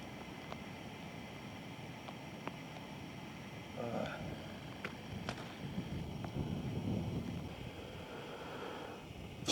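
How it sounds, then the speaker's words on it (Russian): Strong gusty wind during a rainy fishing trip on the Khopyor river, a steady roaring rush buffeting the microphone throughout, with faint scattered knocks underneath. "Ветер просто сносит."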